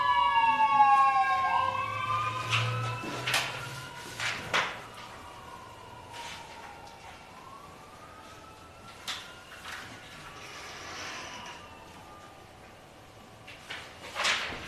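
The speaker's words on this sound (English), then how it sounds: "Sounds like an ambulance." An ambulance siren wails with rising and falling tones, fairly distant, over steady background noise and a few scattered knocks.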